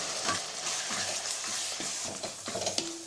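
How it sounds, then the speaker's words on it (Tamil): Spices, oil and turmeric sizzle and fry in a hot pan for okra tamarind curry while a spoon stirs and scrapes in uneven strokes, close up and steady, no voices. "இப்போ நல்லா வதக்கி விட்டாச்சுங்க."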